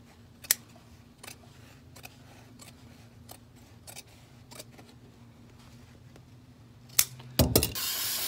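Scissors or a blade cutting carpet for a cargo van floor, a series of crisp snips spaced about half a second apart close by, with louder rustling and handling noise near the end.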